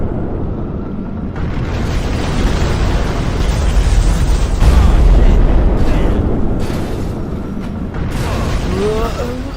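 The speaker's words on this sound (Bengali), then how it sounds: "এত বড় ব্লাস্ট আমি তো আমার জীবনে কখনোই দেখিনি।" Huge explosion in the GTA 5 video game, a loud rumbling blast that swells and sustains for several seconds with debris-like crackle and a fading tail, heard alone without talking.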